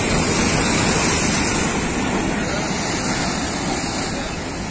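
Sea waves batter a coastal road that has been largely washed away after Cyclone Tauktae, making a loud, unbroken roar of surf mixed with wind buffeting the microphone, with no voices.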